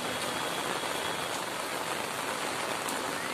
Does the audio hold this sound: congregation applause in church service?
no